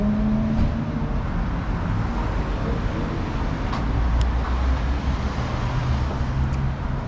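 Busy street traffic on Van Ness Avenue in San Francisco, with cars turning off Lombard, forms a steady roar of engines and tyres, with passing vehicles and an occasional faint higher tick over the continuous rumble.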